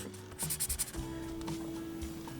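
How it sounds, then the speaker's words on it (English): A huge sail-sized zipper on a boom bag gets pulled shut in a quick series of rough, ratcheting rasps, then drags on as a steady scratchy rub, close and fairly loud over a constant low hum. "a ginormous sail-sized zipper like this, which zips the bag shut"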